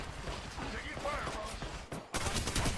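Rapid bursts of gunfire in a video game crackle in a dense, continuous barrage under a voice, with a brief drop before the shooting surges again.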